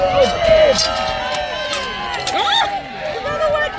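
A crowd cheers and shouts at a castle history festival fight, lively voices rising and falling around a loud announcer who talks throughout, with scattered calls and claps in the mix.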